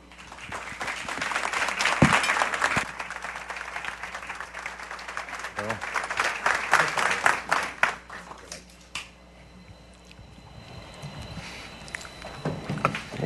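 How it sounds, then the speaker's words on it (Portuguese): Audience applause welcomes speakers to the stage at a Café Filosófico talk event, loose clapping that swells and fades with irregular sharp claps, later thinning out as voices and stage noise take over. "vamos recebê-los com um aplauso especial"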